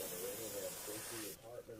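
A steady, soft hiss of an airbrush spraying black paint at low pressure onto a striper fishing lure runs throughout, with a quiet voice speaking faintly underneath before the hiss briefly cuts.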